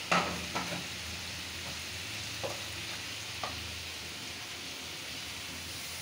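Spiced masala for a Bengali brain bhuna frying in a pan and being stirred, a steady close sizzle with a few sharp scraping strokes near the start and again midway, no voices.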